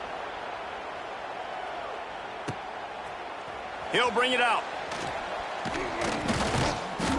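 Broadband crowd buzz fills a football stadium in the NCAA 26 video game, a steady roar running throughout beneath a commentator's voice, with a swell partway through.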